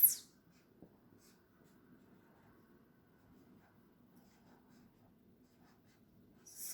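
Writing on a board during a math lesson, with faint, soft marker strokes that are close but quiet over a low room hum, with brief louder bumps at the start and end.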